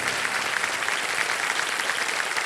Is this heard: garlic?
no